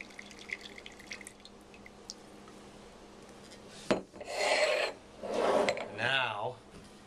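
A Coravin wine system gives one quick pump followed by two more, then pours wine into a glass from a burgundy bottle, producing close hissing bursts and a gurgling stream after a stretch of quiet handling noise.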